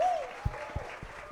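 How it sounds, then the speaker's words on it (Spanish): Church congregation applauding during a Spanish-language sermon, a short soft wash of clapping with a few distinct low thumps and faint crowd noise behind it. "Vamos a dárselo más fuerte."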